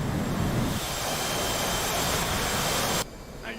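Jet aircraft engine roar from the DCS flight simulator, a loud steady rushing drone that holds for about three seconds, then drops abruptly to a quieter, thinner hum.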